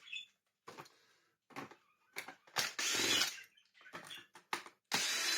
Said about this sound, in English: We now need to get our drill out and the old standard T15 Torx.